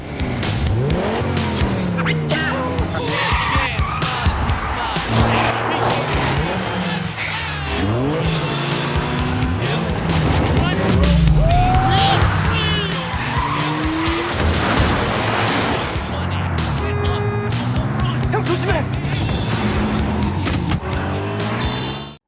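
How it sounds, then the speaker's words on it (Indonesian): Film chase scene with cars racing, engines revving and tires squealing in repeated skids, loud and continuous throughout. "aksi balap-balapan pun dimulai"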